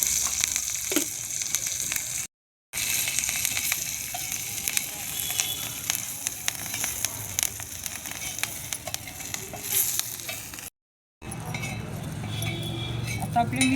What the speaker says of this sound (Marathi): आता मिरच्या भाजून घेते आधी.